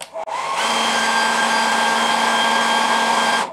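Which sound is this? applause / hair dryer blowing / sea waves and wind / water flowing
hair dryer blowing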